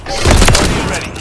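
A loud grenade blast in the military shooter Call of Duty Modern Warfare III, one heavy boom with a rumbling tail, close and dominant over the battle noise.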